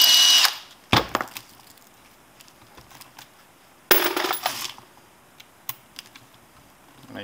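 A power drill spins while trimming .223 brass cases, with two loud bursts of whirring and grinding between quieter metallic clicks and handling taps, close up.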